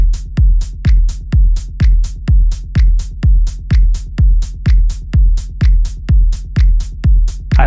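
Techno drum loop with a rumble effect added to the kick: loud, steady four-on-the-floor kicks, each with a deep booming low tail, interleaved with crisp hi-hat ticks in a tight repeating pattern.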